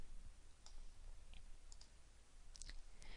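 A single faint mouse click on a software dialog's OK button, quiet and brief against a low background hiss.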